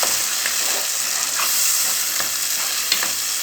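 Fava beans with eggs, pastrami, onion and peppers being stirred in a frying pan, a steady loud sizzle with scraping strokes of the spoon at irregular intervals, close up and without talk.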